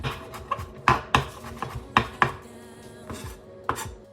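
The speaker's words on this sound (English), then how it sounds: "Also, finely chopping my parsley." A knife finely chops parsley rapidly on a cutting board, a series of crisp irregular taps close by, with no talking.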